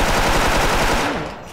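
Rapid automatic gunfire in the Special Force shooting game, a loud dense burst of shots close up that fades out toward the end.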